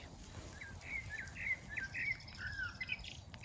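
A bird sings a string of short, bright warbled notes at moderate distance over steady outdoor background noise in a French village, no talking.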